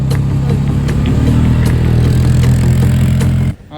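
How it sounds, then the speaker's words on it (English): A four-wheeler quad rides through snow, its engine droning loud and close with steady rumble and light clatter, then cutting off abruptly near the end. "my dad ended up bringing out the four-wheeler. We're riding that thing in the snow."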